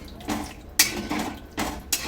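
A spoon stirs a tomato-potato omelette curry with water in a pot, giving a few short scraping and clinking strokes in a loose rhythm, close and moderately loud.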